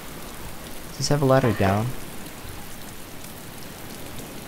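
Steady rain hiss from a graphical glitch in DayZ, where rain falls indoors, runs as constant broadband noise under a short spoken question in the middle of the clip.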